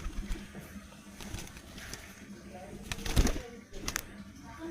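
Pigeons coo intermittently in a low, throaty rhythm, with a few wing flaps and scuffles, while a person talks nearby and calls the damp birds to feed.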